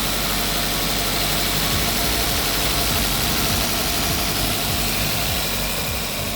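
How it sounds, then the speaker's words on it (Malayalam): Steady idle of a Suzuki Swift's engine up close, a constant mid-pitched drone with a slight knocking texture underneath, running without pause and with no talking. "ഇതാണ് വണ്ടിയുടെ എൻജിൻ സൗണ്ടും കാര്യങ്ങളും വരുന്നത്"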